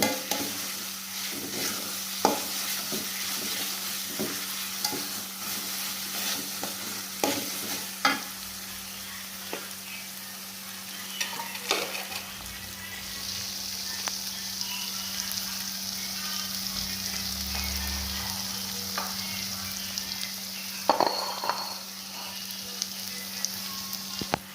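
Chicken liver and gizzard sizzle in an old-style traditional wok while a utensil stirs them, sharp scraping clicks repeating irregularly over a steady frying hiss, close and without talk.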